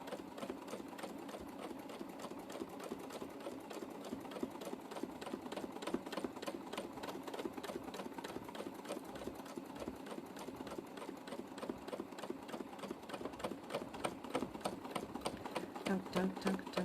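A sewing machine needle stitches rapidly during free motion quilting, a steady fast mechanical tapping that runs continuously and close, with a person talking over it.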